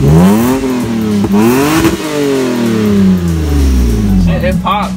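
A Lexus IS300 with a muffler delete revs hard and close, its raw exhaust note climbing and dropping through several sharp pulls before settling.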